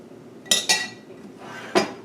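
Spoon stirring milk in a pot over low heat: a few sharp metallic clinks against the pot's side, two close together and one more a moment later, over a quiet background.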